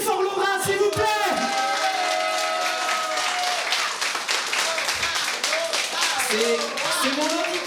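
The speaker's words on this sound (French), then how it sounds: "Applaudissez très fort Laura, s'il vous plaît." A concert audience claps and cheers in a loud, steady wash of applause, with musical tones ringing near the start and voices calling out over the clapping.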